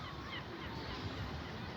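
Many birds in a crowded coop of about five hundred pigeons fill a steady, dense bed of low cooing and calling, continuous and close, with no clear single voice standing out.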